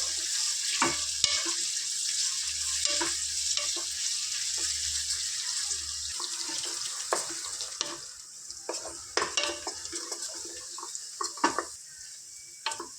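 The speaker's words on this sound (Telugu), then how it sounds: "వీటిని చక్కగా లైట్ గోల్డెన్ బ్రౌన్ కలర్ వచ్చే వరకు ఫ్రై చేసుకోవాలి" Onions and green chillies fry in a pan until light golden brown for a Telangana-style country chicken curry. A steady, close hiss of sizzling oil runs throughout, broken by frequent clicks and taps from stirring.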